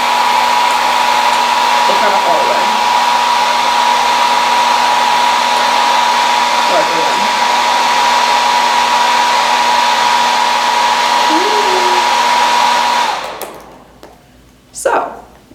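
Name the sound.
hair dryer running on high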